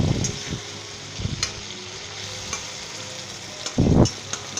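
Tomato boondi masala with green chillies and mint being stirred in a pan, a steady soft sizzle of frying broken by a few louder scraping stirs, the last one longest near the end.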